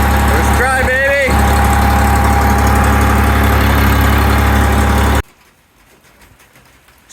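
A John Deere tractor engine on a cold start, turning over and then running at a steady low idle, loud and close, with a brief spoken voice near the start before the engine sound cuts off abruptly.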